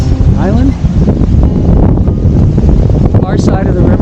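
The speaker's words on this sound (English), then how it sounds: "Wind noise as usual." Loud wind buffets the microphone beside the Detroit River at Amherstburg, Ontario, a constant low roar that never lets up, with faint voices buried beneath it.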